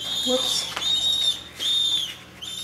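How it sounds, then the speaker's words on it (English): High, thin squeaking whistles from baby pigeons repeat in two drawn-out bursts, close and fairly loud, with faint shuffling in between. "these are baby pigeons down here that are making noise"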